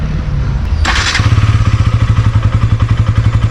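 A KTM Duke 200 BS6 motorcycle fires up after a brief starter whir, settling into a loud, close, steady thumping single-cylinder idle.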